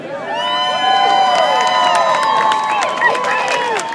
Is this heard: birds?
no